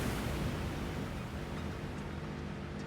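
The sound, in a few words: waterfall in a video game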